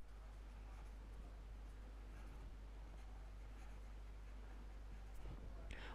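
Chalk or marker scratching steadily on a board as equations are written during a thermodynamics lecture, faint and continuous over a low background hum.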